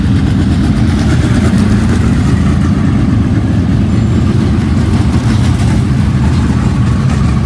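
UMP modified dirt track race cars take hot laps at Hattiesburg Speedway, a dense, loud, continuous engine roar with overlapping revving from several cars at once.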